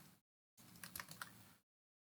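Keys tapped on a MacBook Air keyboard after tea was spilled on the laptop: a short, close burst of quick clicks, alone, after a brief pause.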